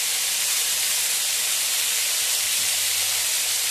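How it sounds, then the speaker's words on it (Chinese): Velvet beans, also called dog claw beans, tossed in a hot wok for a Hakka dish give off a loud, dense, continuous sizzling hiss that stays even and close throughout, with no talking. "狗爪豆放下去，继续翻炒"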